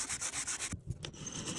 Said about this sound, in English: I might just hit that with some sandpaper right now.